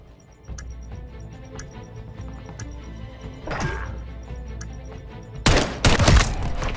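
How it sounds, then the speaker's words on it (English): Gunshots in a search-and-destroy shooter video game: a steady background hum with faint ticking, then a loud cluster of close shots near the end. "I shot him!"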